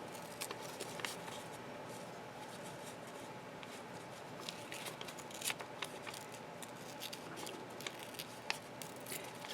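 A page is torn slowly and carefully from a Webster's dictionary, giving a close, quiet run of fine crackling, ripping rustles and small paper snaps with no voices.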